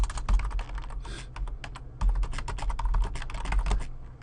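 Steady typing on a computer keyboard, a quick stream of close, crisp key clicks with short pauses between bursts.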